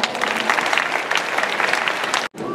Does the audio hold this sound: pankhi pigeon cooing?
no